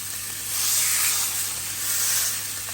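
Roast beef sears in a hot pan, giving a loud, steady sizzle and hiss that swells slightly and runs unbroken, with no voices.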